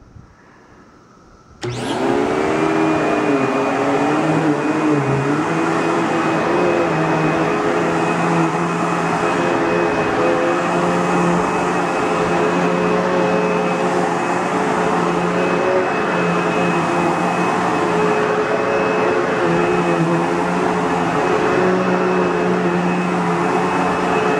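A Cirrus CR79 upright vacuum cleaner with a variable-speed, two-stage motor switches on after a short quiet moment, then runs at a steady loud whine with a constant high tone for over twenty seconds, close by with no talking.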